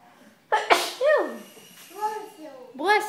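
A child sneezes once, sharp and close, followed by a few short vocal sounds from the child in a quiet room.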